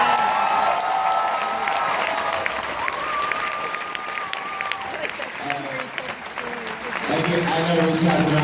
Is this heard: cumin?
no